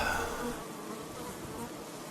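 Honey bees hum and buzz steadily around an open hive during an inspection, making a dense close-up drone that stays fairly even throughout, with no talking.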